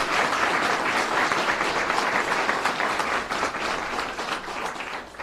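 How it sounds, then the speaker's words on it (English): A large audience at a New Jersey rideshare safety law event breaks into dense, continuous applause, loud and even throughout with no talk over it. "we owe them a round of applause and a real salute for what they've done."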